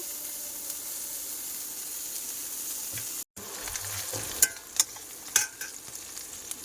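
Onion, garlic and green chilli hiss and sizzle in hot oil in a pan, a steady close frying noise broken by a brief dropout, followed by a few sharp spoon clinks against the pan.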